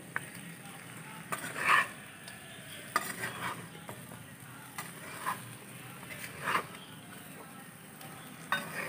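Large chicken pieces frying in oil for pilaf, a quiet steady sizzle broken by intermittent metal stirring scrapes and clinks of a spatula on the pot.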